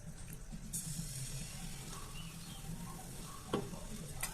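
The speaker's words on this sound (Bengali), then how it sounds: "আমি পাটিসাপটাগুলো এখন ভেজে নিচ্ছি।" Patisapta crepes with a jaggery and coconut filling sizzle steadily in a pan, a faint, constant frying hiss with a few light clicks of utensils and no talking.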